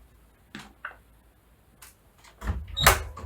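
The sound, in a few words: door opening as husband comes in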